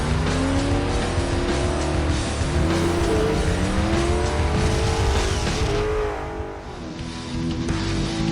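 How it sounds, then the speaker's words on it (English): Supercharged S197 Mustang with 650 horsepower and a dual-disc clutch accelerating hard, engine roaring and rising in pitch while the rear tires squeal loudly and continuously, easing briefly near the end. "Hear that? That's now 650 horsepower getting to the rear tires of this supercharged S197 Mustang."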